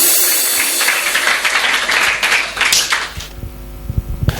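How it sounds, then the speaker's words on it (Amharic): Hand clapping from a church congregation, a dense burst of claps that thins out into a few scattered, sharper claps near the end. "አጨብጭቡ ለጌታ ክብር"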